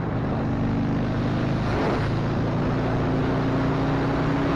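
A steady, loud engine roar with heavy rumble as a vehicle speeds up at a twist of the throttle, with wind buffeting throughout and no talking.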